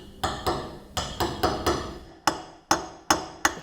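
Chisel struck by a hammer on scagliola marble: about eleven sharp, close taps in uneven groups, each a crisp knock with a short ring, alone without speech.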